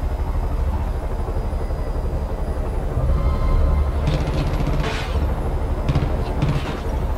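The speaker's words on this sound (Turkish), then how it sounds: "Helikopteri buraya indireceğim." A helicopter in the Far Cry 5 video game flies and sets down, giving a steady, loud rotor and engine drone throughout, with sharper bursts later in the clip.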